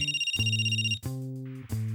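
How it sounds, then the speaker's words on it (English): A phone ringtone plays close and clear, a bright electronic melody of sustained tones in short repeating phrases with brief gaps between them, and nothing else is heard. "A few seconds later, his phone started to ring."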